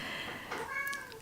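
A pet cat whines and lets out a single drawn-out meow, close and fairly clear against a quiet room.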